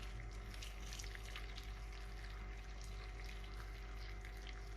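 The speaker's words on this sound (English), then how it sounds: "then fill it up with the hot water" Hot water pours steadily into a bowl of chopped red cabbage, a continuous close rushing splash with a low rumble underneath.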